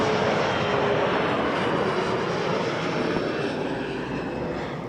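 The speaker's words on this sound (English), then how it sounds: "A330 Air Canada Star Alliance livery heading off to Vancouver" An Air Canada A330 airliner departs Toronto Pearson for Vancouver with a continuous, broad jet roar that holds steady and loud throughout, with no voices.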